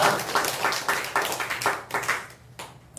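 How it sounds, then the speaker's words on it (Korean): A church congregation at a Sunday worship service claps together, a moderately distant burst of applause that fades out over about three seconds. "우리 장로님 가정 위해서 우리 큰 박수 하겠습니다."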